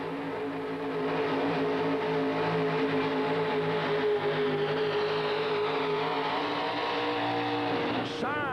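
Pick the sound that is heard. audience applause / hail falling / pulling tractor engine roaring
pulling tractor engine roaring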